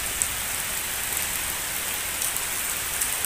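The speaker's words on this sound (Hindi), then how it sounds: "माशाल्लाह बारिश आंदी पई है" Steady rain falls and patters on surfaces nearby, a dense even hiss with occasional brighter drop splashes, continuous throughout with no voices.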